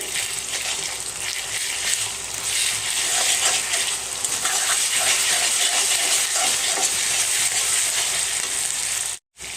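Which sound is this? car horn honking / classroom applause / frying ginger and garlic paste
frying ginger and garlic paste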